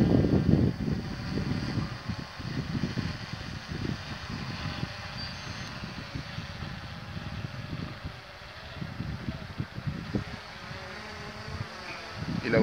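A buzzing, insect-like whine of small rotors hums steadily, rising and falling slightly as the drone hovers nearby, with some wind noise.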